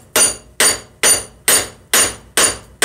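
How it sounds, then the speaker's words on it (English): Metal locked in a vise is struck with a hammer during a forging demonstration to spread the material: seven loud, evenly spaced ringing blows, each decaying quickly, with no talking. "now instead of hammering just straight down, we want to try to spread this material"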